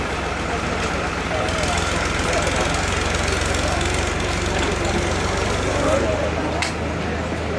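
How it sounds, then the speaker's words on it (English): A tractor engine runs steadily close by with a low throbbing drone and rattling knock that never lets up, while people talk over it. "Can we wait for that tractor to go away?"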